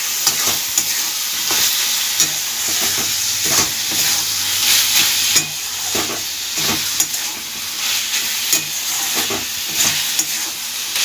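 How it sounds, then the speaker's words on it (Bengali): Plantain flower and prawns stirred in a pan with ghee, a steady close sizzle and hiss of frying under repeated scraping strokes of the spoon, with no talk. "ঘিটা দিয়ে নেড়ে নেব।"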